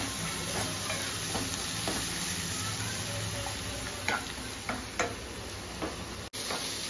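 Green chillies and onions with a little turmeric fry in a pan, a continuous close sizzle broken by occasional light taps and clicks of a utensil, with no speech.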